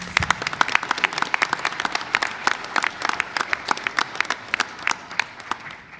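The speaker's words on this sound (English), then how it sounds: "big round of applause for all of our hardworking teachers" Steady applause from a group at a board of education meeting, with many overlapping claps close by that rise sharply at first, then settle into an even rhythm.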